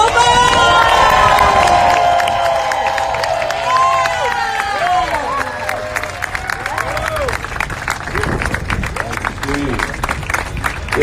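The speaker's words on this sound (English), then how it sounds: "I need everybody to give a round of applause for Malik Yoba!" A crowd at a real estate event in the Bronx erupts in cheering, whooping and shouting, then settles into sustained loud applause and clapping that continues to the end.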